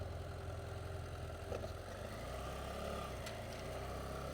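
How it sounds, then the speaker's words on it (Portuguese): A steady motorcycle engine idles close by on a town street in the Andes with a low, continuous rumble, holding an even level throughout with no voices. "Chegou mais uma moto aí."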